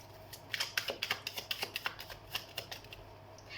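Tarot cards being shuffled by hand: a quick run of crisp, papery riffles and snaps in an uneven rhythm, close and fairly quiet, with no talking.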